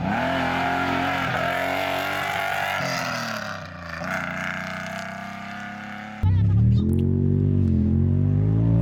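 A Polaris side-by-side off-road racer runs across open veld during a desert race, its engine roaring continuously and loud, shifting pitch as it revs, surging louder near the end.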